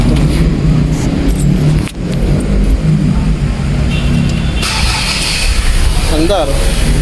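Ford Everest engine cranking and catching after an engine wash, loud and close under talk, settling into a rough idle, with a short squeal near the end.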